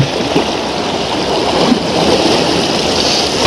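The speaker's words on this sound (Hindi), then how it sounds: "अब पानी देखो आप किस तरह से बह रहा है।" Fast-flowing water of the Ganges river rushes steadily in a continuous broadband wash, close and fairly loud, with no voices over it.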